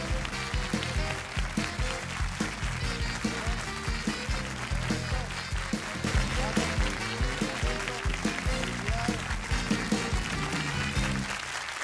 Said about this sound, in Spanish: Los vamos a recibir aquí en Noche de Ronda con un gran aplauso